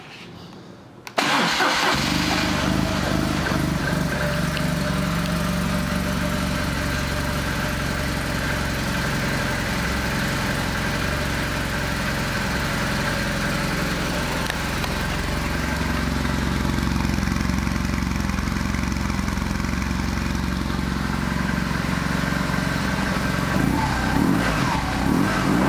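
A 2008 BMW R1200GS Adventure motorcycle engine cranks and fires after a brief quiet moment, then settles into a steady, close idle that runs loud and unbroken to the end.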